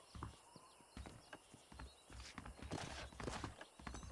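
Horse hooves clip-clop at a walk in the video game Red Dead Redemption, faint and uneven, with soft game ambience behind.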